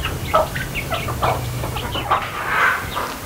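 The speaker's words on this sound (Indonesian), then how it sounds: "Saya suka loh pagi-pagi ngasih makan ayam." Chickens cluck in short, scattered calls while being fed in the morning, close by over a low steady background hum, with no talking.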